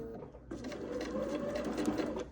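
A sewing machine stitches quilt fabric pieces in a steady, continuous mechanical whir with rapid needle ticking, close by and running alone.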